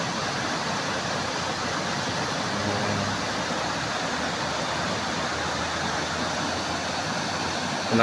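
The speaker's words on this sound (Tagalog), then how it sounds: "Malakas po yung agos ng tubig." Strong, steady rush of fast river current flowing beneath a bridge, a dense continuous roar of water with no breaks and no talking.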